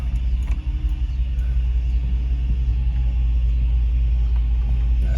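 Hemi-swapped Jeep Wagoneer driving in four-low, its engine a steady, loud low rumble from inside the cab with no break in the drone.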